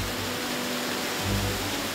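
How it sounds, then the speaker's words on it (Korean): Small waterfall on a mountain stream in Hongcheon, Gangwon, giving a steady, broadband rush of falling water that stays close and even throughout, with a faint low tonal hum underneath. "폭포 소리는 언제 들어도 좋아요."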